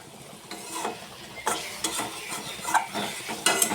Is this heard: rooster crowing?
no